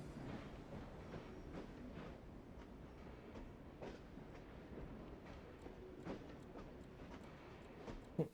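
A train rolls along in the Assassin's Creed Syndicate video game, a quiet continuous rumble with rhythmic clickety-clack beats and a sharper knock at the end.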